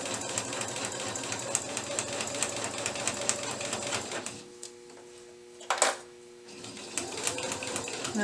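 A sewing machine stitches paper-pieced fabric with a fast, steady chattering run that stops partway through, then starts again after a short pause, close by.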